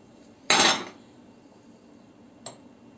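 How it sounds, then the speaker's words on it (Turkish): A utensil clatters sharply against a bowl while onion and pepper are mixed for an Urfa eggplant kebab, one loud scrape-and-knock followed two seconds later by a brief lighter tap, close and with no talking. "malzemelerimi karıştırıyorum"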